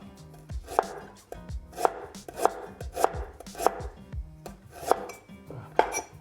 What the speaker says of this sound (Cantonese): 嚇，切片嗱， 薑咧就切角得啦。